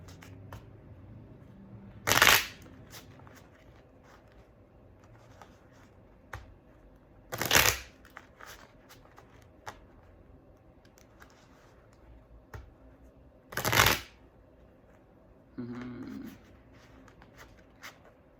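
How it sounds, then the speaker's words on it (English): A deck of playing cards being shuffled at a table, three sharp riffling bursts spaced several seconds apart with quiet pauses between, close and clear, plus a softer rustle near the end. "let me shuffle these and then I'll explain."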